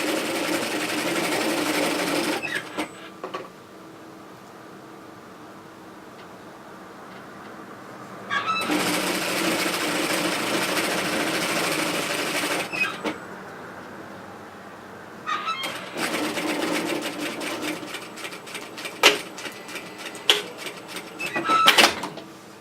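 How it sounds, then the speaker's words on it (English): Sewing machine running along the seam of a rear zip hoodie toward the back neck, long close loud whirring bursts separated by quiet pauses, the last stretch broken by short clicks and stops. "So continue stitching that all the way up to the back neck area."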